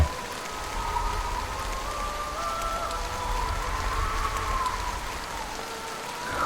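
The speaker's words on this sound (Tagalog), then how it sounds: "sa labas naman ng kubo, ay bumuhos na ang ulan na tila isang babala mula sa kalangitan." Rain pours steadily outside a hut in a dense, even patter, with faint tonal sounds drifting underneath and no voices.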